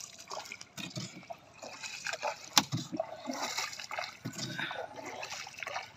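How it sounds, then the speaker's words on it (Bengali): Water splashes and drips around a small wooden boat crossing the Baranai river with a strong current, with irregular close-up sloshes and trickles and faint voices in the background. "আমরা এই যে বারোনাই নদীতে একটা ছোট্ট একটা টুনটুনি নৌকা নিয়েছি, যে কোনো সময় ডুবে যেতে পারে"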